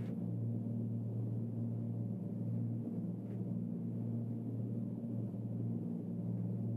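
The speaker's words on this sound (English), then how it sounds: "I'm definitely hearing sounds of the rain." Steady rain hiss blends with a low, constant engine drone of a Seneca II twin-engine aircraft in a flight simulator, throughout, with no talking.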